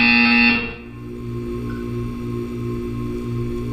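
A buzzer sounds in the video game Portal 2, a bright electronic tone that cuts off abruptly, followed by a low pulsing hum.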